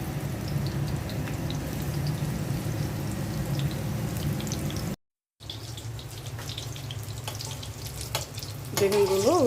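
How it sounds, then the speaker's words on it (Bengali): Eggplant slices fry in oil in a frying pan with a steady, close hiss that cuts out briefly midway, then resumes with a few faint clatters toward the end. "বেগুনগুলো দিয়ে দিচ্ছি"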